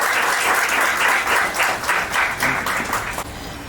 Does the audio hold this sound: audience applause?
yes